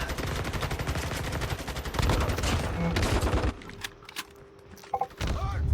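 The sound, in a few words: shotgun gunfire in Call of Duty Mobile video game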